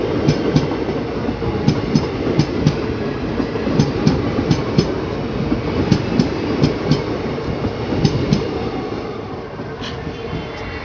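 A Lalkuan–Bareilly City passenger train hauled by a WDB4 diesel locomotive rolls steadily past, a loud rumbling drone with a regular clickety-clack of wheels over rail joints for the full length, easing slightly at the end.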